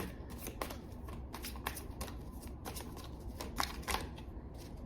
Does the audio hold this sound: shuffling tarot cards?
yes